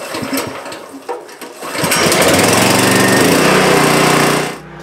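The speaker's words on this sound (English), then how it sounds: "So let's get this generator running and let's get the power turned on." A gas generator powering a home fires up after a few rough pulls. It then settles into a loud, steady mechanical drone close by before cutting off near the end.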